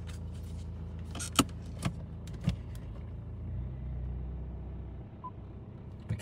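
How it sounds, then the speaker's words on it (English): A car rolls slowly a short distance on a home driveway, giving a soft, low rumble in the middle after a few sharp clicks and knocks. The scene is quiet overall. "and then if we move the car"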